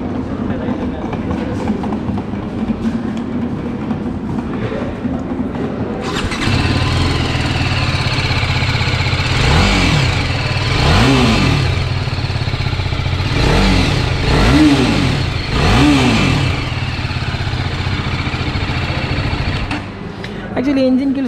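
A BMW G 310 RR single-cylinder motorcycle idles with a steady low exhaust thrum, then the engine note rises and falls in several throttle blips, loud and close, with someone talking over it.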